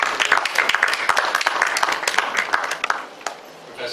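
An audience at an academic lecture on history and popular memory in Elmina claps together in dense, close applause that holds steady, then thins out and fades after about three seconds.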